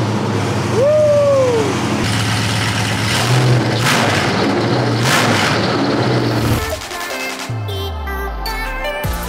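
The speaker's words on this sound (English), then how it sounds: "Crank this old dually up." An old Chevrolet C10 dually truck with a homemade exhaust cranks and fires into a loud, rough, steady rumble, heard close up with no talk, before it cuts to other sounds near the end.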